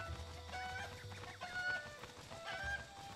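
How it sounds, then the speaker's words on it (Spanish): A cucco chicken in The Legend of Zelda: Breath of the Wild, in Kakariko Village, clucks and squawks in short repeated calls at low volume over a soft background game ambience. "Aquí hay otro cuco."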